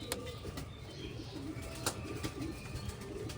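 Pigeons in a home loft in Bengal, including a desi nun, give soft low coos and faint chirps at a distance under quiet room noise.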